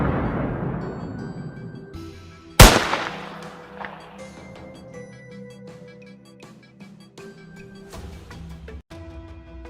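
A single sharp gunshot cracks out at a wild boar in a swampy hunting area, followed by a fading ringing tail and scattered clanks and rustling in an otherwise quiet setting.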